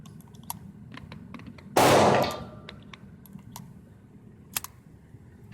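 A Rossi M88 .38 Special revolver fires once in double action, a loud, sharp, close report that rings out briefly and decays over about a second amid faint background clicks.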